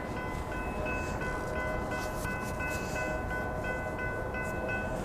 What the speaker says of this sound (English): Let's watch the train go by.